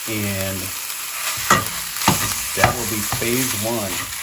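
Chopped sausage browns in a hot pan for hatch green chile cornbread stuffing, with a steady loud sizzle broken by scraping stirs while a voice talks briefly.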